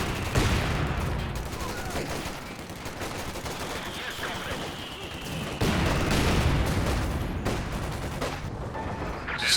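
Calliope rocket artillery salvos in Company of Heroes 2 battle: a dense, loud barrage of overlapping rocket launches and explosions rolling continuously, with a whistling streak mid-way and faint voices beneath.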